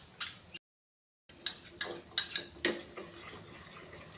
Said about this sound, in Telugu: దీన్ని ఇప్పుడు కలుపుతూనే ఉండాలి.